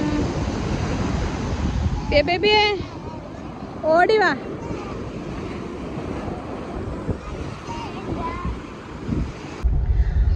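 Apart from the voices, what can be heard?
sea waves and wind at Unniyal beach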